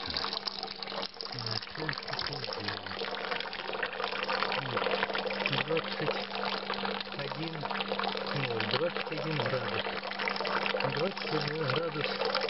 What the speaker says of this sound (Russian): вода, вот видите, какая вода с крана бежит